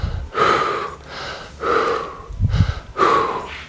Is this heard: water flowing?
no